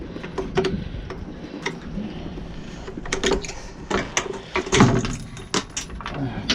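Metal bolts dropped during a generator repair at a boathouse, giving scattered sharp clinks and rattling taps close by, several in quick succession over wind noise.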